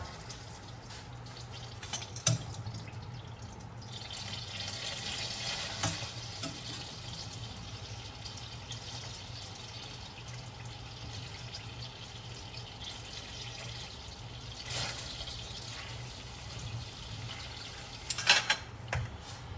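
Meat for osso buco sizzles in hot oil with a soft, continuous crackling hiss, with a few brief clinks of cookware now and then.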